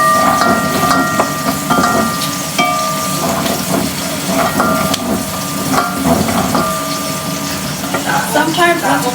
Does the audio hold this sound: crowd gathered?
no